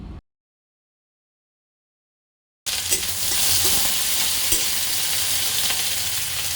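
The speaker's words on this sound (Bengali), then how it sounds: "পেঁয়াজটা লাল লাল করে ভাজা হয়ে গেছে। এবার আমি দিয়ে দিচ্ছি কুচিয়ে রাখা টমেটো।" Chopped tomato goes into onions already fried until reddish-brown for a Bengali masoor dal. After a few seconds of silence comes a loud, steady, close sizzle with stirring, and no voices.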